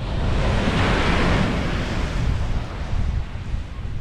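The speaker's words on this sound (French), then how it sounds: "les vagues s'approchent dangereusement." Pacific surf on a Chilean beach rolls in and washes up the sand in a steady loud roar with wind noise, the wave swelling then easing off, no voices.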